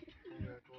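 A single soft, low coo from a pigeon on a rooftop, close by, brief and throaty with a gentle rolling tone.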